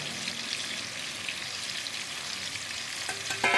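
Chicken pieces frying in a kadai over high heat for butter chicken give a steady, close crackling sizzle with no talk, and a louder clatter near the end.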